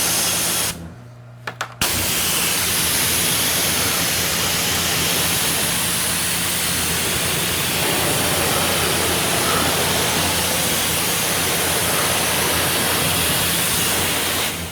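Steady broadband hiss of a water spray washing a Porsche 718 GT4 outdoors at night, loud and continuous after a brief quiet pause near the start.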